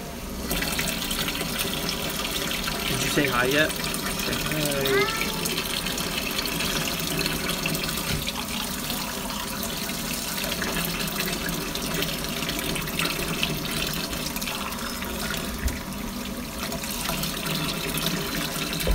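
Water runs steadily from a tap into a container at dinner time, a constant hissing gush heard close up. An adult voice talks briefly over it.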